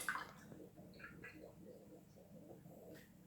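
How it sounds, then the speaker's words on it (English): Water poured into a container in a children's capacity lesson, a soft continuous trickle and splash that runs steadily for a few seconds at low level, with faint background murmur. "So I'm going to pour this water in."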